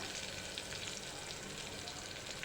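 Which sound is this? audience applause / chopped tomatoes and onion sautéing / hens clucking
chopped tomatoes and onion sautéing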